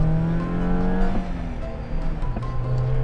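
A Yugo car's engine revs hard under aggressive driving, a loud, close drone whose pitch climbs and drops through the gears, with brief tire squeal.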